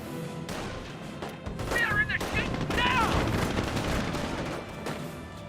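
Sustained bursts of MG42 machine gun fire rattle through a Company of Heroes battle, mixed with scattered rifle shots and distant explosions, dense and continuous across the scene, with voices calling out beneath the gunfire.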